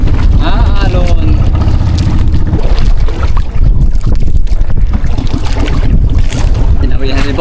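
Rough sea sloshes and splashes around a fishing boat in bad weather, mixed with heavy wind buffeting the microphone and a low engine rumble, loud and continuous throughout.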